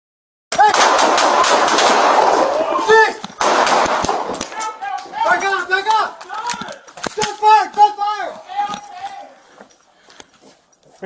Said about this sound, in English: we got shots fired.